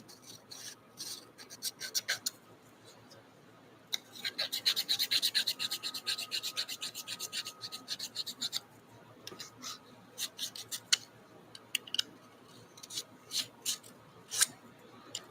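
Old gasket being scraped off a PTO housing, heard as quiet, irregular rasping and scratching strokes in short bursts, with a denser run of scraping in the middle and pauses between.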